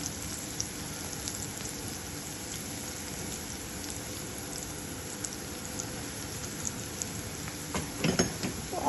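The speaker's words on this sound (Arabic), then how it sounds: "استمر بالتقليب لحد ما يستهى واضيف عليه الدجاج المسلوق والمفروم." Boiled minced chicken being stirred and fried in a pan, a steady close sizzle with scraping of the spoon, a few louder stirring clatters near the end.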